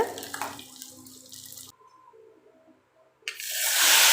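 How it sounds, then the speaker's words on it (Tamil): Running water splashes steadily over mango pieces being rinsed, cuts out into near silence for a moment, then comes back in a loud rush from a tap. "மாங்காவை சின்ன சின்ன பீஸாக கட் பண்ணி தண்ணியில் நல்லா அலசிட்டு சேர்த்துக்கோங்க"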